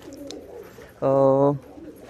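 A single short, loud cooing call, like a pigeon, rings out close by for about half a second amid quiet surroundings.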